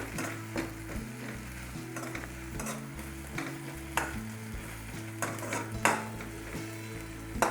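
A pan on the stove sizzles steadily as ingredients are tempered and fried for homemade pasta, with repeated scraping and clinking strokes of a utensil stirring against the pan close by.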